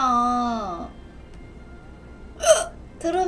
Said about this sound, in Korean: 트름이 아니라 그거예요.